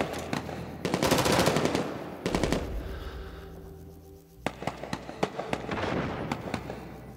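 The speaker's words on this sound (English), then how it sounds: "the artillery is about to come in" An artillery barrage in Rising Storm 2 Vietnam, set near rice paddy fields, erupts in rapid cracking bursts of near explosions, a pause, then more scattered sharp blasts and crackling impacts continuing to the end.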